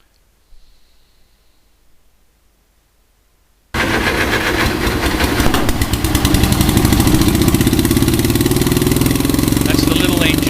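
A John Deere R tractor's small starting engine fires up abruptly after near silence, then runs loud and close with a rapid steady chugging that builds slightly in strength.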